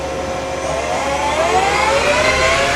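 A Takisawa EX-108 CNC turning center spindle runs forward and ramps up, giving a loud, steady whirring whine over a broad mechanical hum that holds throughout.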